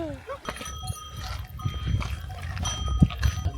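Livestock on a mountain hiking trail make scattered, faint calls and shuffling sounds against outdoor ambience, with brief bleating-like cries mixed with rustling, and people talk nearby.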